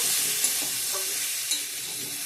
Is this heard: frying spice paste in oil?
yes